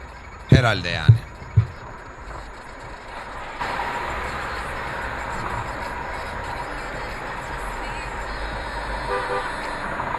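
Three sharp car horn honks sound in quick succession, loud and near, then give way to steady road noise with a car driving.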